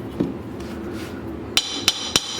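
Three sharp, ringing hammer strikes land in quick succession near the end, clear and close after a quieter stretch of room noise.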